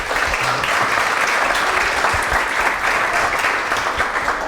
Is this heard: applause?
yes